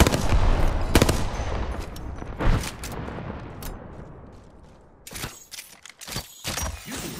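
Video game gunfire rattles in rapid automatic bursts, loud at first, fading to a quieter stretch, then returning in sharp clustered volleys near the end.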